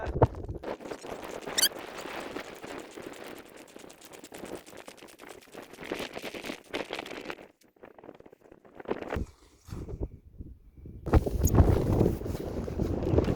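Gusty wind buffets the microphone beside a frozen lake covered in snow, a loud rushing roar that rises and falls, breaks off into brief lulls near the end, and returns in strong gusts.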